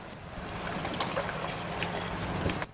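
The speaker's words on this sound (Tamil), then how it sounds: "இப்போ பாருங்கள், இதில் இன்னும் கொஞ்சம் நம்ம தண்ணி சேர்த்துக்கலாம்." Water poured into a pan of peas gravy (mutter masala) while cooking, a steady trickling splash lasting a few seconds and stopping abruptly.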